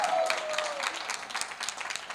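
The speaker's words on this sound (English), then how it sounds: "A little applause here." Audience clapping at a book launch for a diet author's second book, a steady burst of applause from a crowd that stays fairly even throughout, with light scattered claps standing out near the end.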